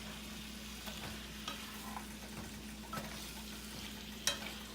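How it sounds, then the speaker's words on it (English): Vegetables for a spicy vegan lo mein with peanuts stir-frying in a pan, a quiet steady sizzle broken by scraping and flipping strokes of a spatula against the pan bottom, with one sharper clack near the end. "Really use your thing and your spatula and scrape the bottom of your pan and just flip everything over until everything is fused nicely together"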